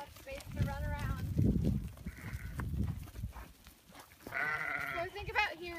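Sheep bleat in an open field during herding practice with a dog, several wavering calls near and far, heard under a voice and among shuffling noise.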